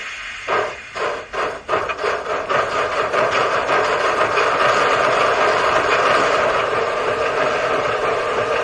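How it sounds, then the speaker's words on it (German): A 1:32 gauge 1 model class 05 steam locomotive with a sound module, braking alone: chuffs slow and merge into a continuous hissing, grinding brake noise that holds steady and loud to the end. "Und dann nochmal das Bremsen mit der Lok alleine."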